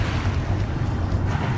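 A boat crosses the open sea toward Selingan Island off Borneo, Malaysia. A dense, steady rush of engine, water and wind noise stays loud and close throughout, with no voices.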